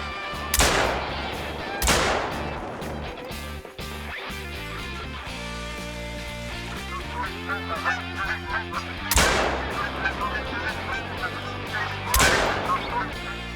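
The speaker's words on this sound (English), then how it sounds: "Once I had the rifle points, I hunted geese out of a couple of blinds for the rest of the cache." Honking geese call in layered, repeated bursts around a hunting blind in theHunter: Call of the Wild, while four loud, sharp gunshots crack out, two close together early and two more later on.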